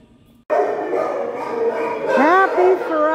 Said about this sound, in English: let's go in and meet some dogs.